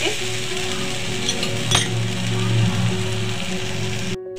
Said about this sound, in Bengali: এবার ভালো করে একটু কষিয়ে নিচ্ছি।